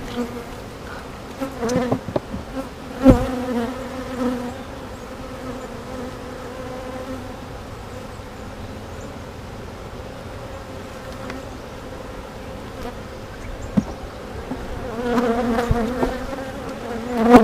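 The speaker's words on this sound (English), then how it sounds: "got a decent amount of bees in here" Dense buzzing of many honeybees in a hive, close and continuous, swelling a little at times, with occasional soft bumps and taps.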